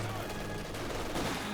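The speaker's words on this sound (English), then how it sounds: "I have my other machine gun that's covering" Machine gun fire in the Company of Heroes 2 strategy game, quick rattling bursts mixed with other battlefield gunfire, dense and continuous under a player's voice.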